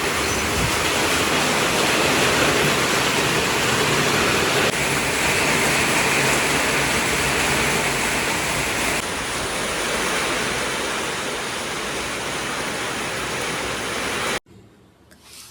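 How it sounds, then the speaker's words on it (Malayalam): Heavy rain pours steadily onto a home yard, a dense, continuous hiss that stays loud and even for about fourteen seconds before cutting out abruptly near the end. "അപ്പം ഞാൻ മഴയുടെ സൗണ്ടൊക്കെ കേൾപ്പിച്ചത്"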